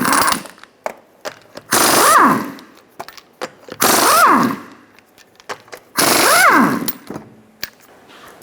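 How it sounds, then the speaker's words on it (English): Impact wrench spinning off 21mm lug nuts from a Nissan Altima wheel: three loud, close bursts, each about a second long, with a whirring pitch that rises then falls, separated by quieter clicks and handling noises. "Remove your 5 21mm lug nuts."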